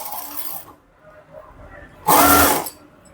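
Sewing machine stitching a sleeve onto a blouse: one short, close burst of fast mechanical whirring after quieter rustling and handling of fabric.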